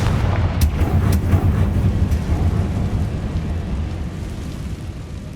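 Confringo fire spells blast in the Hogwarts Legacy game, a sharp crack followed by a second punchy burst over a heavy rumbling roar that slowly fades away.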